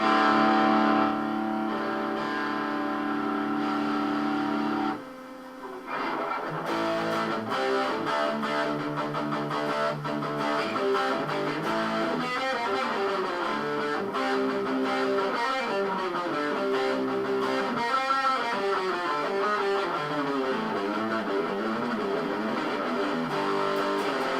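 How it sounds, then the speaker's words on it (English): A Peavey guitar amp played with distortion and fed into a mixing console: sustained, buzzy overdriven guitar chords and notes ring continuously, with a brief drop around five seconds before playing resumes. "Okay, now the distortion."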